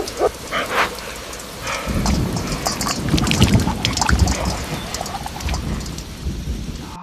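Steady rain pours outdoors as a lone dog gets soaked, a dense hiss of drops pattering on surfaces with low thundery rumbles swelling through the middle, continuous and fairly close with no voices.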